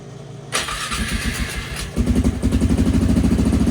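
A Polaris Sportsman 500 ATV engine, previously flooded, cranks briefly, then catches and revs up, settling into a loud, rapid, chugging idle close by with a loud muffler.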